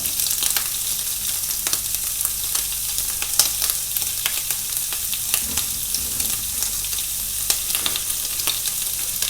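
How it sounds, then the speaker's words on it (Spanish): Prawns sautéing with salt in a hot pan give a steady, loud sizzle, with occasional light clicks and stirs over the constant crackle, heard close with no talking. "vamos a saltear los langostinos"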